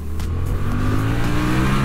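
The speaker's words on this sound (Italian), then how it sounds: "in prima ho messo una primina per farvi sentire il motore" Yamaha Tracer 700 (2020) motorcycle engine held in first gear, revving with a rising, loud throaty drone close by, no talking.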